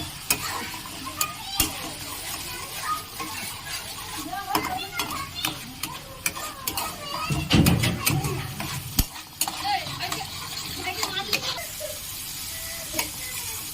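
Tomato paste fries in a pan while a spoon stirs it, giving a steady sizzle with repeated sharp scrapes and clicks against the metal. Faint background voices sit underneath.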